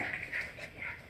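Eight-week-old poodle puppies whimpering while playing, thin high whines rising and falling in short overlapping bursts, close and fairly quiet.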